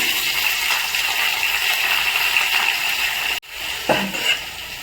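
Oil sizzles steadily in a pan as onions and dried red chillies fry for semiya upma, a loud, continuous hiss that dips briefly and then resumes with a stir.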